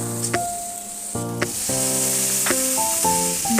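Bitter gourd frying in a pan gives a loud, steady sizzle that runs throughout, joined by bright clinks and scrapes of stirring.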